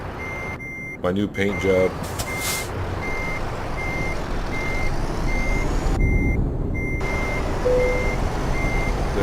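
A truck in American Truck Simulator sounds evenly spaced reversing beeps while pushing a trailer back, over a steady engine rumble, with a short hiss of air brakes and someone talking briefly near the start.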